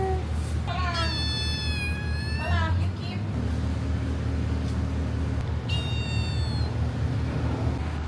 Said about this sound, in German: Oh, und eine kleine Babykatze.